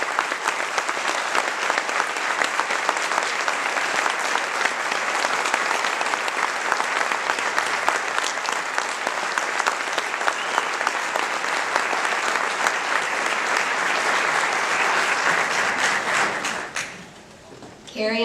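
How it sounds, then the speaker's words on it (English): A large audience at a presentation gives nurses a long, loud, sustained round of applause that fills the room evenly, then fades out near the end. "we'd like to give them another round of applause"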